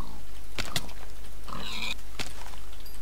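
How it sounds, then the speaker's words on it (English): Pig grunts and squeals from a pig in Tekkit, the modded Minecraft game, as a few short, sharp oinks spaced across a couple of seconds over a steady low game hum. "And there's a pig, I will slay it if I can catch it."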